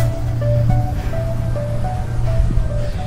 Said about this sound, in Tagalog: Ito na yung dagat.